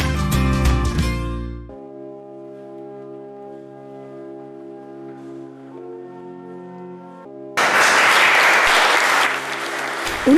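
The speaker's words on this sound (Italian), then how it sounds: "Un applauso che sancisce la fine di un'attesa durata 5 anni e non solo." Applause from the congregation at the bishop's blessing of a church restoration during the feast of the Madonna del Carmine. Sustained organ chords play first, then loud, dense clapping breaks out and fills the last few seconds.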